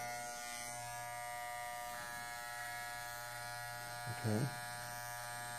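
An electric hair clipper hums steadily at close range as it curves around the ear while a fade haircut is cut. A brief spoken word sounds near the end over the continuous buzz.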